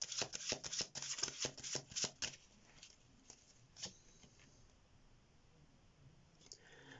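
Tarot cards from the Dear Love deck being shuffled, a rapid run of crisp riffling flutters for about two seconds, then scattered softer card slides and taps, close and quiet with no talking.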